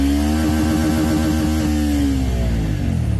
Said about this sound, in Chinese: 那么就先测发动机，这台车呢有空挡保护，必须挂着档才能拉高转